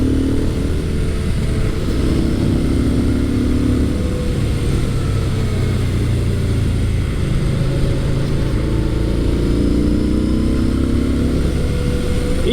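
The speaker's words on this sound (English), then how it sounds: "I like the character of this engine a lot better." A Yamaha SCR950 scrambler motorcycle's engine drones loudly and steadily while riding on a bumpy road, with heavy wind rush and slight rises in engine pitch throughout.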